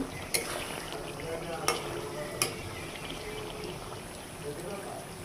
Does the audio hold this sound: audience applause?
no